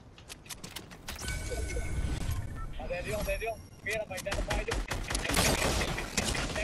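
Fortnite gunfire crackles in rapid automatic bursts and single sharp shots, loud and close, mixed with mechanical clicks and game effects while a player talks.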